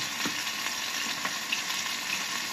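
Chicken pieces sizzle steadily in a hot frying pan, a continuous crackling hiss with scattered pops, fairly close and unbroken by any voice.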